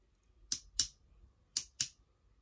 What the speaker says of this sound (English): that's a really good on-off switch as well. It's got a really good click.